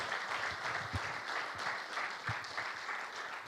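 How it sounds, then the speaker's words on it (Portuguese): A church congregation at a Sunday service claps for Jesus, a steady, even round of applause with a few louder thumps, heard alone with no talking. "Dá uma salva de palmas a Jesus."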